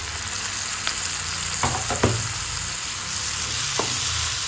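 Tomatoes hit hot oil with onions in a pan, giving a loud, continuous close sizzle broken by a few spoon scrapes and taps as they are stirred.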